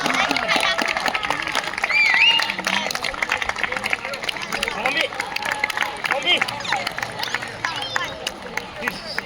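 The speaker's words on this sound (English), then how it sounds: "The claps are stopping." Audience applause at an annual sports closing ceremony, a steady wash of many hands clapping with crowd murmur and scattered voices throughout, fairly loud and continuous.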